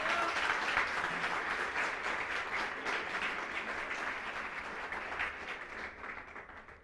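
A church congregation applauds in a steady wash of many hands clapping, moderately distant in a large room, slowly fading toward the end.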